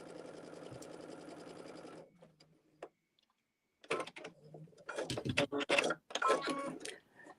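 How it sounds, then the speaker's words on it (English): A sewing machine stitches around the perimeter of a quilt block in a fast, steady whirring run that stops, then resumes in short bursts with clicks and pauses between them. "I'm just sewing around the perimeter."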